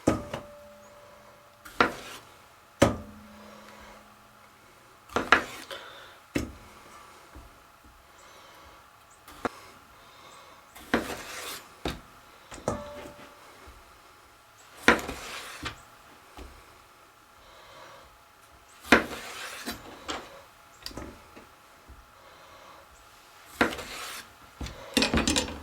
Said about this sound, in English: We're going to start with cutting 8 Roma tomatoes in half.